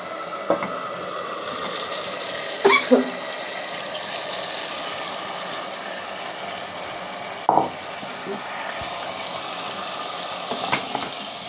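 Fried cauliflower and katla fish stir-fried together in a pan, a steady sizzle running throughout with a few sharp clinks and scrapes of the spatula scattered across it.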